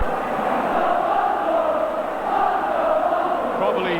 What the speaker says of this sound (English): Probably hear the crowd below me shouting for Muddy McLeod to have a right go at this